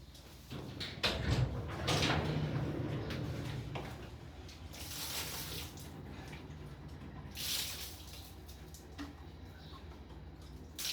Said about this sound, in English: pour this water bottle all over my hands